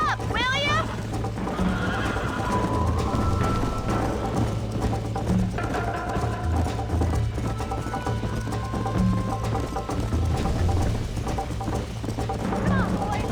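Horse neighs and whinnies in the Western video game Red Dead Redemption, with hooves clip-clopping and galloping under a rider's shouted voice and steady background game sound.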